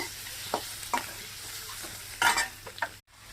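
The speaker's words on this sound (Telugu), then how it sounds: "ఈ గుడ్లన్నీ వేసేద్దాం. గుడ్లన్నీ వేసిన తర్వాత బాగా కొంచెం వేగిన తర్వాత" Boiled eggs fry in a pan as a utensil stirs them, several distinct scraping strokes over a soft sizzle, close and fairly loud, ending abruptly.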